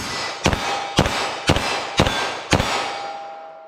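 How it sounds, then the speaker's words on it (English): A 9mm pistol fired in a ballistic gel test, with five loud, sharp reports spaced about half a second apart, each trailing a brief ringing decay, with no talking. "So I'm gonna do 6 shots here."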